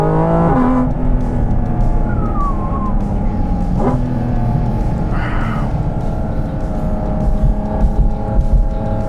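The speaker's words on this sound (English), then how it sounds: "Listen to that downshift." A loud Porsche Cayman GT4 RS engine roars steadily, its pitch dropping and climbing through gear changes, with a sharp downshift rev blip partway through.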